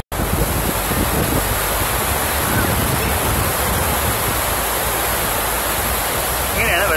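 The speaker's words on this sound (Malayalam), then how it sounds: "ഡാം തുറന്നു വിട്ട രംഗം ഒന്നുകൂടെ ഞാൻ കാണിച്ചു തരാൻ ശ്രമിക്കാം." Water rushes from the opened sluice gates of Malampuzha Dam in a loud, steady roar that holds without a break from start to finish, with no voices over it.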